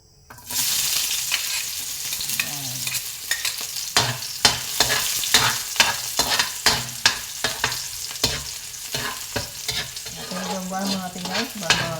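Garlic sizzles steadily in a hot pan as a base for sautéed ampalaya, with repeated sharp scrapes and clinks of a spatula stirring throughout.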